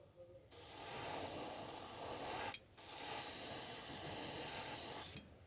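An airbrush sprays paint onto a crankbait lure in two close bursts of steady hissing air. The first runs about two seconds, then comes a brief pause, then a louder, longer burst, with quiet room tone before and after.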